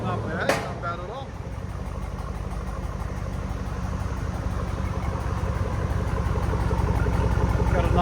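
A 2007 Chevy Tahoe with a 5.3L V8 and Flowmaster Outlaw exhaust idling, a steady low rumble that builds slightly louder, with a brief sharp noise near the start.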